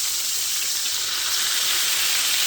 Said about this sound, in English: So let's give our first one over here a flip.